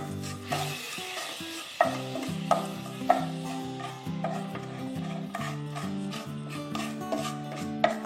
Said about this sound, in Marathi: आणि हे सगळं छान एकजीव करून घ्यायचंय।